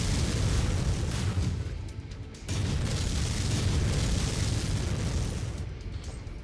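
LRM missile strikes in the mech combat game MechWarrior 5: Mercenaries produce loud, continuous rumbling explosions, a dense booming roar with a brief dip partway through.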